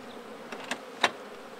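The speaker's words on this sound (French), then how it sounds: "On voit les ruches présentement que les abeilles butinent très bien aujourd'hui." Honeybees foraging around hives on a warm day, a low steady insect hum with a couple of brief, louder buzzes as single bees pass close by.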